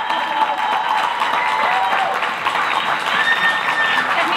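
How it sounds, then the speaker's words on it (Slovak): Audience applause at a community celebration, sustained clapping from a crowd with a faint murmur of voices underneath. "Ještě jednou potlesk pro Hanku Kobzíkovou"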